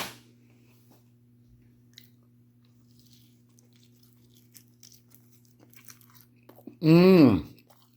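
A waffle French toast kebab skewer is bitten into near the end, a loud, close crunching burst and chewing lasting about a second after a long quiet stretch with only a low hum.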